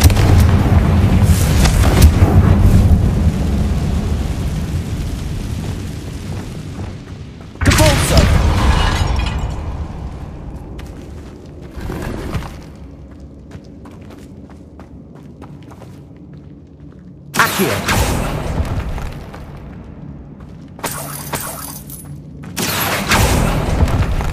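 A Confringo fire spell blasts in the Hogwarts Legacy video game, sounding as several loud, booming explosive bursts with crackling tails, spaced apart and set against quieter game ambience in between.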